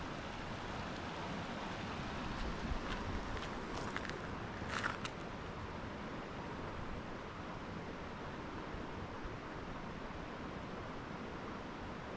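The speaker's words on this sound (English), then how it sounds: "Love listening to the sound of the water in the background." The Yuba River flows as a steady broadband rush close to the microphone and keeps going throughout, with a few faint brief knocks around the middle.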